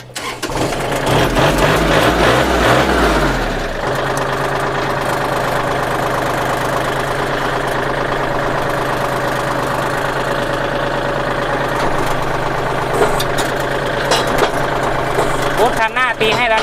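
A used farm tractor engine, with about 719 hours on it, starts with a loud surge and then settles into a steady, even diesel idle that runs on without break, close to the listener.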